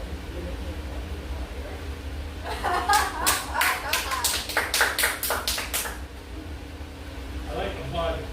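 A small group at a Latin quiz competition claps briefly in a quiet classroom, a few seconds of sharp, separate hand claps rising and stopping, with low room noise before and after.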